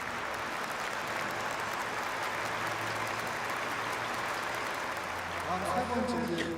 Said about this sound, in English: Let us give a warm round of applause as the gifts are being offered to our beloved true parents.